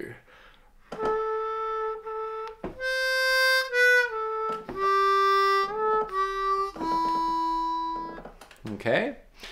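A phrase of Silent Night played on a C harmonica, sustained single notes stepping up and down, close and moderately loud, with a breathy noise near the end.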